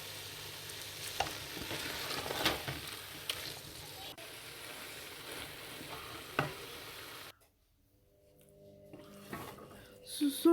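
Chopped carrots frying in oil and ghee for gajar ka halwa, stirred in a pan with a continuous sizzle and scraping spoon sounds, then a brief quiet gap before the stirring and sizzle resume while someone talks.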